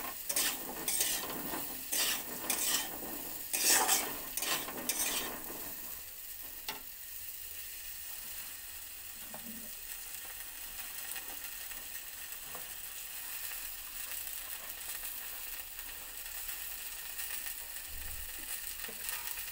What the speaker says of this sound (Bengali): কুলগুলো ভালো করে ভেজে নেব।